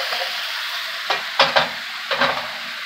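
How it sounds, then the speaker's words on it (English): Shrimp fry with onions and garlic in a pan for a creamy white wine sauce, a steady close sizzle broken by a few scraping stirs. "we dump the shrimp in with the onions and garlic."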